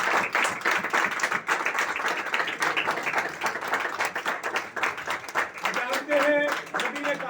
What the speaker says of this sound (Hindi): उन खादमों के लिए जोरदार तालियां दो